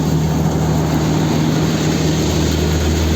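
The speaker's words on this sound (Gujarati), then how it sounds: "અહીંયા આપણે માંડવી કાઢવાનું મશીન છે" A tractor-driven groundnut threshing machine runs in a farm field, giving a loud, constant engine drone with a steady low hum and no pauses or talk.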